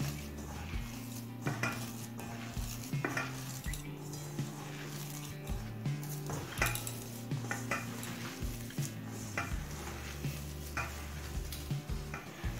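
Khoya kheer is mixed into a moya mixture in a bowl, with repeated scraping, stirring and clinking of utensil against the bowl in an uneven rhythm, close and alone.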